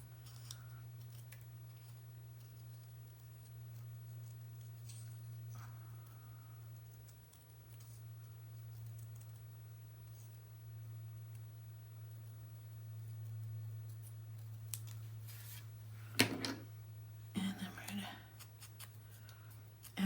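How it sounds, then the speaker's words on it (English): Scissors cutting a paper tail off a scrapbook mini album page, a few close snips and rustles near the end, after a long stretch of quiet room hum. "I'm cutting this tail off because it's really irrelevant to what I'm going to do with this"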